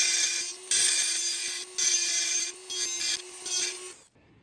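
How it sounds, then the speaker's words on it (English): A Dremel rotary tool slots a hole in a mount for a Garmin Catalyst in a Porsche Cayman 987, giving a steady whine with rasping grinding bursts that start and stop in short passes before cutting off at the end. "we're just gonna go ahead and slot that thing with our Dremel again"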